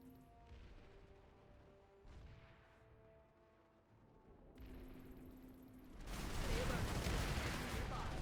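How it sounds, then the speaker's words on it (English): Sniper rifle shots in a shooter game, a few sharp cracks spaced across the first half, then a loud sustained burst of blast noise that ends it, with game tones and background music beneath. "There's two snipers shooting at me at the same time."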